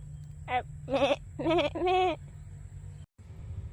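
Goats bleat on a farm: four short, wavering calls in quick succession, close and clear, then a steady low hum with no voices.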